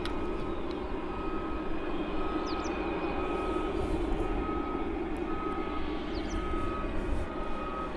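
A steady broad roar of an aircraft on final approach at East Midlands Airport, a cargo hub, heard from a distance as a continuous drone with faint tonal whines above it and no talking.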